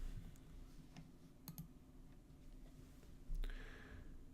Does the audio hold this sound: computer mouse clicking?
yes